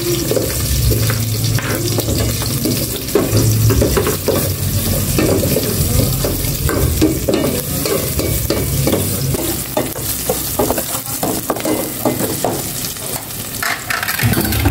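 Onions and garlic frying in oil in a pan for a Filipino dish, a steady loud sizzle with stirring and clatter running throughout, no talking.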